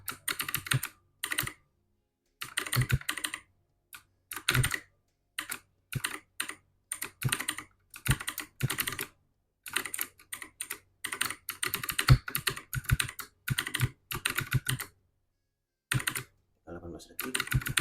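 Computer keyboard keys pressed during play of the game CyberVerse, a steady run of close, crisp clacks in short bursts separated by brief pauses, with no talking.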